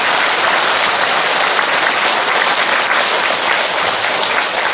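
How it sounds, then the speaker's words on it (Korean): Steady, dense applause from a congregation fills a church prayer meeting, loud and sustained from start to finish with no voices standing out. "감사와 찬양의 박수를 우리 주님께 드리십시다"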